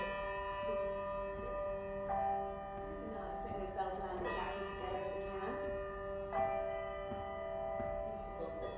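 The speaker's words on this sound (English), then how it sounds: "those bells land exactly together if we can" Handbells ringing a Christmas carol together in a practice room, with a G3 bell left ringing through: clear, sustained bell tones struck in overlapping chords that hang and decay, with occasional light background noise.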